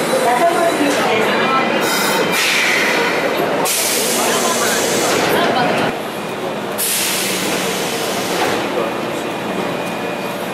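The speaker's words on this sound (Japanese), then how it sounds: "電車が発車します。ご注意ください。" Subway train pulling out of Yodoyabashi Station on Osaka's Midosuji Line, loud rumbling and rattling wheels with squeals, a steady roar that shifts as the cars pass.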